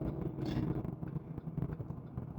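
Heavy road traffic with many cars passing on a busy highway, a steady low engine-and-tire rumble heard from inside a moving vehicle, continuous and fairly loud throughout with no talking.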